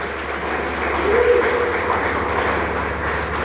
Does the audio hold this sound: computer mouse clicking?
no